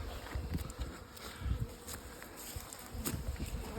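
Honey bees buzz around an open hive during colony work, a close, uneven drone with individual insects swelling in and out, no voices present.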